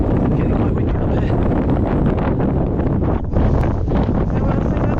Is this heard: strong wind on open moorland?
yes